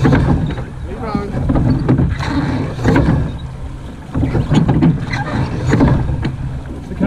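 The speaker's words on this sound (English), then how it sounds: "Keep rowing." A surf boat crew rows at the Avon 'Surf' Challenge, with rhythmic oar strokes and water splashes recurring steadily at close range beneath shouted calls and talk.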